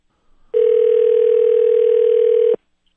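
A steady telephone dial tone sounds clearly for about two seconds on a work phone line, starting and stopping abruptly with near silence around it.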